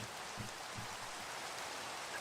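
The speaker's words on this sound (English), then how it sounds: "let's get out of the rain" Steady rain hisses across the whole stretch in the Minecraft video game, modded with the Create mod, a continuous even wash with a couple of low thumps near the start and no talk.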